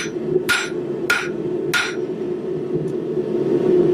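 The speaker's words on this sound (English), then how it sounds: "we're getting a lot more movement out of this 2-pound hammer" Three sharp metallic blows from a 2-pound hammer striking hot steel on an anvil while forging a corkscrew, evenly spaced about half a second apart over a steady low workshop hum, fairly close.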